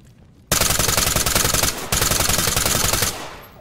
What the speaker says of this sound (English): I don't know where those shots came from.